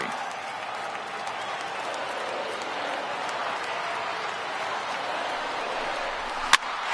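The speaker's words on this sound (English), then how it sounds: "listen to this crowd now. They are really into this." A large baseball stadium crowd roars and cheers steadily throughout, a broad wash of voices and applause heard from within the stands.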